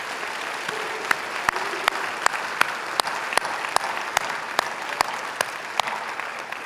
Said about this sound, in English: How about a round of applause for all these people?